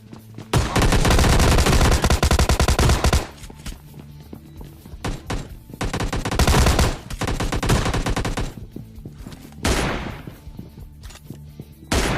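An M24 sniper rifle fires in a battle royale shooter game, amid loud, close stretches of rapid gunfire that break into quieter gaps with scattered thuds and footsteps.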